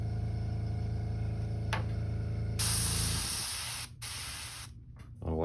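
An airbrush driven by a compressor sprays red crimson ink in a loud, steady hiss that starts partway through, running over the compressor's low hum, then briefly cuts out twice before resuming.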